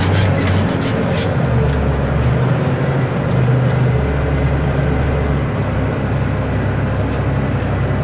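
An XCMG truck engine pulls away on the road, a steady low rumble with a droning hum that holds loud and close throughout, with faint road noise on top.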